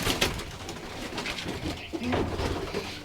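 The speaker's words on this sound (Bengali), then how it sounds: "এটা হচ্ছে একটা মাদি কবুতর" A female Rajshahi Giribaj pigeon in a loft gives low, throaty coos close by, repeating through the moment alongside some background talk.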